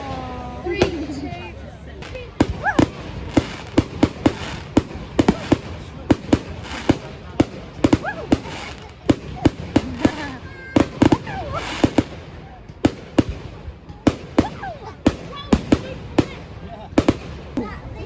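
Carnival fireworks burst in a rapid irregular series of sharp loud bangs and pops, some echoing, while people chatter and exclaim throughout.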